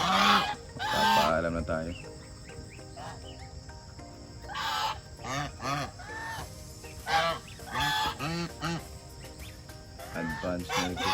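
Geese on a farm honk loudly in repeated bursts, several birds calling over one another at close range, while someone speaks briefly in between.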